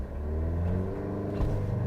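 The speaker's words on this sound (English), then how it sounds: "Ooh, it actually takes off pretty well for the base engine" A 2023 Alfa Romeo Stelvio Estrema with its base engine, eight-speed automatic and all-wheel drive pulls away hard from a standstill, a loud, steady engine roar building through the gears with no talking over it.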